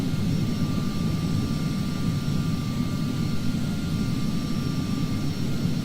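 A simulated airliner engine in the FSX flight simulator drones steadily, a low, constant rumble with a faint high whine above it, moderately quiet and unbroken. No one speaks.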